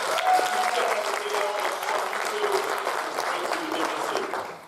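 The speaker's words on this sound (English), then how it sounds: "So let's give Dr. Billy Tuma a round of applause" An audience at an Africana lecture series event applauds warmly for a speaker, with continuous clapping and some crowd murmur throughout.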